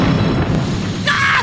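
Cartoon explosion from mixing two dangerous chemicals, a loud sustained rumbling boom followed by a brighter hissing burst near the end.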